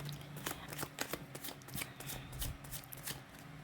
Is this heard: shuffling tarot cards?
yes